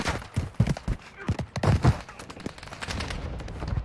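Gunshots crack in the shooter Warzone 2.0, an irregular series of sharp close shots in small clusters, with a low background rumble between them.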